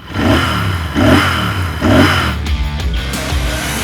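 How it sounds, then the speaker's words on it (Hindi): A 2021 Royal Enfield Interceptor 650 motorcycle revving its exhaust, three loud close throttle blips in even rhythm, then the engine settling back to a steady idle. "एग्जॉस्ट नोट सुनाते हैं इन केस अगर आप भूल गए हैं तो।"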